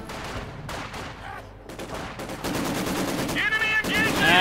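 Rapid bursts of small-arms and machine-gun fire in a Company of Heroes 2 World War II battle, German Panzers and Sturmgewehr rifles cutting down a Soviet squad, with dense overlapping crackle that builds louder toward the end.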